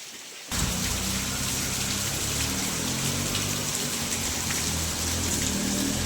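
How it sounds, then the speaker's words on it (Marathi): Heavy rain roars over a fog-covered village in a dense, steady hiss that starts abruptly and continues unbroken, loud and close, with no voices. "बाहेर पाऊस बघा पावसाचं वातावरण आहे जबरदस्त पाऊस लागतो आहे"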